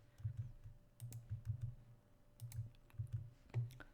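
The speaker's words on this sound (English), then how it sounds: "I'm going to press Command V" Keys clack on a Mac computer keyboard in short clustered bursts of quiet, close clicks with small pauses between groups, and no voices are heard.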